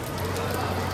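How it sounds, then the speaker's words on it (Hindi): Rain falls steadily on a village school on a wet morning, a dense continuous hiss with no clear pauses that fills the scene for about a second. "सुबह से वर्षा हो रही है।"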